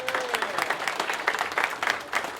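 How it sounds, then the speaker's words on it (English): A comedy club crowd claps for a guest, a short burst of lively, close applause with a faint voice near the start. "give her another round of applause."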